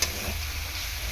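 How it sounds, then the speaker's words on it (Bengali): Spice paste with turmeric and Kashmiri chili powder sautéing in a pan for chicken kosha gives a steady, close, continuous sizzle and soft frying hiss, without voices. "দিয়ে মশলাটা ভালো করে কষিয়ে নেব।"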